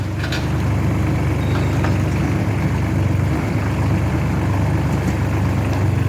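A tractor fitted with a log grapple runs steadily nearby, a loud continuous low diesel rumble with faint clanks and knocks over it, and no one talking.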